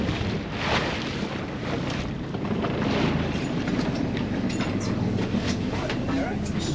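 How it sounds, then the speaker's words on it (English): Northeasterly wind blowing across a boat at sea off Guernsey, a constant roaring rush buffeting the microphone over churning water, with people talking through it. "the wind's coming across us in the northeasterly"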